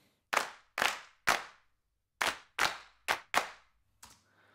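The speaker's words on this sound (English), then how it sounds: "this is actually a clap sample that I pulled from my library of a group of people clapping" A sampled group of people claps in sharp, separate bursts, seven even hits in two short runs, crisp and dry with no talking.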